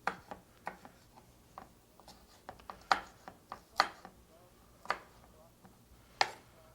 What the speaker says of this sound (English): This is a boneless breast of chicken. I'll cut up things bite size.